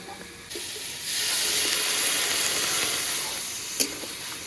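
Yardlong beans and potato frying in a pan flare into a loud, rushing hiss as water is poured in, the sizzle swelling after a second and holding steady with a small clack near the end.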